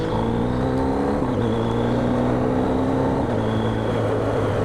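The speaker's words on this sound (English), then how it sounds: "Car coming." A car, heard from a motorcycle ride, passes with a steady engine hum that rises and shifts in pitch as it goes by, loud and continuous with no talk over it.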